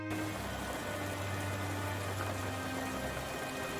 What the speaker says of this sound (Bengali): এই বৃষ্টি তো থামার নামই নিচ্ছে না।